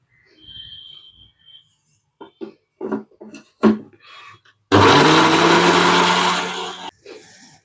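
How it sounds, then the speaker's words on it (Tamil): A mixer grinder grinding chili paste runs in a loud, steady whirring burst for about two seconds, following softer kitchen knocks and handling noises beforehand. "நல்லா பேஸ்ட்டாக அரைச்சி எடுத்துக்கணும்"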